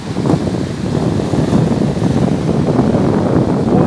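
Rough sea at Boca del Río on the Veracruz coast, with waves breaking in a loud continuous rumble and heavy wind noise battering the microphone, sustained and near throughout.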